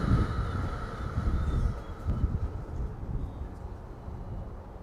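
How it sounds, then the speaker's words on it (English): Strong wind roars and buffets outdoors, rising and falling in gusts, fairly loud and continuous with no voices. "It is extremely windy and it's getting chilly."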